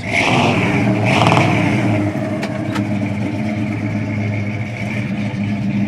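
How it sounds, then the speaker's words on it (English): A 1974 Pontiac Firebird Formula V8 engine rumbles steadily with a deep, throaty dual-exhaust tone, revving up briefly near the start before settling into a loud, even idle. "I'll listen to the motor"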